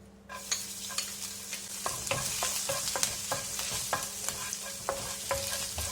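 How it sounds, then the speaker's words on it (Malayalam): Chopped ginger fries in hot coconut oil with a steady bright sizzle, and a spoon scrapes and taps against the pan in an irregular stirring rhythm, close and clear with no talk. "ഇതിലേക്ക് നമുക്ക് ചോപ്പ് ചെയ്ത് വെച്ചിരിക്കുന്ന ഇഞ്ചി ചേർക്കാം."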